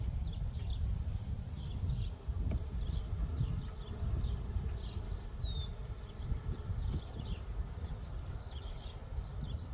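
Honey bees humming around a hive, a low continuous drone with scattered bird chirps above it, outdoors.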